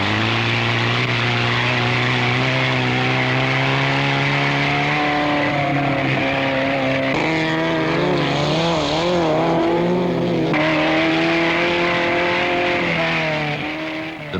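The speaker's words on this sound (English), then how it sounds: "Straker's Sprite leads the lively bunch, challenged by the ever-pressing Minis." Mini and Sprite cars racing at a 1970s autocross, engines droning loudly and steadily with rising and falling revs as the cars pass close by.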